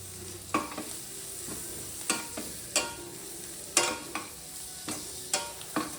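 Spices with coriander sizzle and fry in a pan for an egg fry, with a steady hiss and several sharp stirring scrapes at irregular intervals, close and moderately loud, without any talking.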